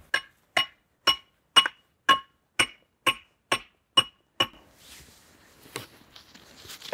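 About nine sharp, regular knocks of hard strikes on frozen, lightning-struck tree wood, close and fairly loud, then quieter scraping and rustling.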